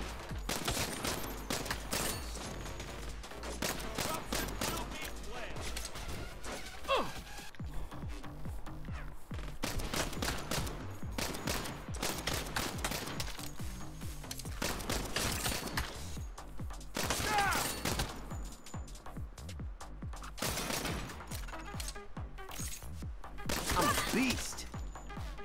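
Gunfire in the Saints Row video game, with dense rapid volleys of shots that come in bursts over most of the stretch and short pauses between them, loud and close.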